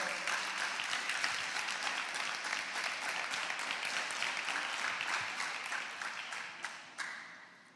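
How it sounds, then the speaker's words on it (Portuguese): A church congregation claps hard for the Lord at a youth service, a dense, steady wash of applause lasting several seconds and thinning slightly toward the end. "Dê um aplauso ao Senhor, o mais forte que você puder."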